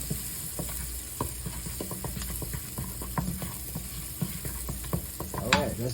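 Garlic cooking in oil in a pan for a pasta sauce with meatballs, a steady close sizzle with scraping stir strokes throughout and no talk.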